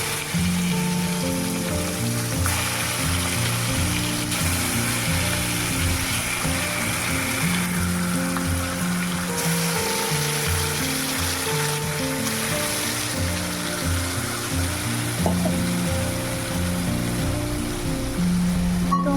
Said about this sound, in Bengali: তেলটা ভালো করে গরম হয়ে গেলে তার মধ্যে আমি দেখো এক এক করে মাছগুলোকে ছেড়ে দিচ্ছি